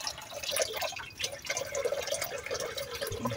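Running tap water while washing fish in a kitchen, a steady close splashing stream with dripping and trickling into a basin.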